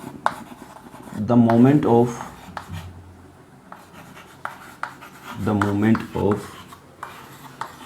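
Marker or chalk scratching on a classroom board in short strokes and taps between stretches of a teacher's speech, close and fairly clear.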